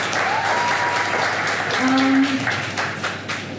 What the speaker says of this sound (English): Please, another round of applause for Gerald.